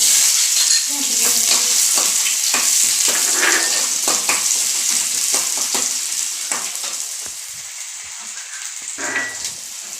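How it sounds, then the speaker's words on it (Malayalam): Chopped shallots hit hot oil after mustard seeds have popped, giving a loud, crackling sizzle broken by rapid spatula scrapes and clatters that ease off slightly toward the end. "കടുക് പൊട്ടി കഴിഞ്ഞു ചെറിയ ഉള്ളി അരിഞ്ഞത് ഇടണം"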